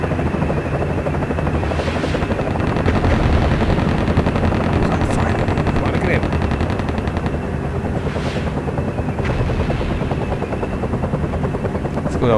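A Mi-24 Hind helicopter in a flight simulator game drones loudly and continuously with its rotor thrum, while rapid bursts of gunfire rattle over it throughout.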